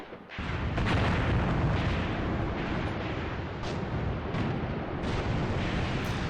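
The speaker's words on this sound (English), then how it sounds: "And you can hear the mortars unloading as well." Mortars fire repeatedly in a Graviteam Tactics battle in the Mius Front campaign, a dense rumbling barrage of booms with sharp reports layered over a continuous roar of combat, loud and without voices.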